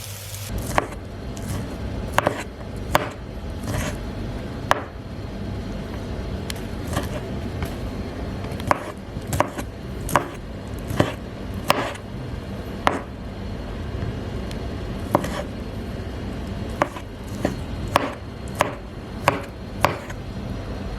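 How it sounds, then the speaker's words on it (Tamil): A knife chops cooked chicken into small pieces on a board for shawarma, with irregular sharp knocks recurring steadily at close range over a low background hum. "சூடு ஆறுனதுக்கப்புறமா இது நம்ம சின்ன சின்னதாக பொடி பொடியாக கட் பண்ணிடலாம்."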